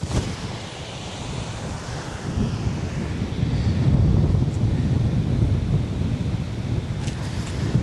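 Wind gusts across an open golf course, a steady broadband rush of blustery air buffeting the microphone, swelling slightly midway and continuing throughout with no talk.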